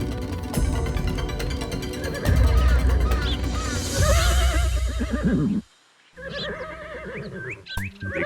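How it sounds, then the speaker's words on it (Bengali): A horse in a royal stable neighs loudly and close, with long wavering whinnies over several seconds, a brief silence, then more short whinnies, heard among cartoon background music and effects. "আপনি ঘোড়ার ডাককে মেঘের গর্জন বলছেন?"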